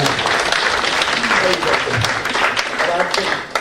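Seminar audience applauds in a hall during a motivational program, with dense, steady clapping filling the whole moment at close range.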